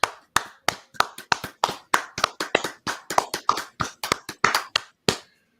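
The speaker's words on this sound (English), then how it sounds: "We're going to get that man some real claps." Loud, close hand claps for the heavyweight champ ring out one after another in a steady, slightly uneven rhythm, about twenty sharp claps with nothing else around them.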